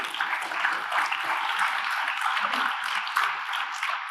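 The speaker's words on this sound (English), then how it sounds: "So give them a round of applause." Conference audience gives a round of applause in a steady wash of clapping at moderate loudness, lasting the whole moment with no clear speech.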